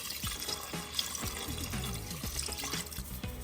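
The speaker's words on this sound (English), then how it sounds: "you're going to add some water, just enough to cover the top of the meat." Water pours and splashes into a big pot of pork spare ribs being cooked for sinigang, with a continuous gurgling stream and small clunks close by.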